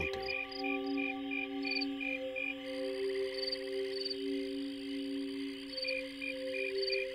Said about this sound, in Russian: Сверчки издают гораздо более мелодичные звуки.